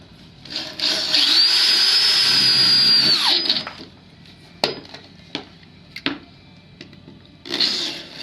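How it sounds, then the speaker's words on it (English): A power drill drives a self-tapping screw into a metal shelving rail in one loud sustained whine of about three seconds, followed by sharp knocks and clatter, then a brief second burst. "once we've secured the rail on the edges with those self-tapping screws"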